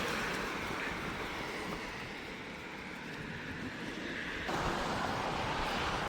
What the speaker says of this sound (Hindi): और हवा चल रही है काफी तेज।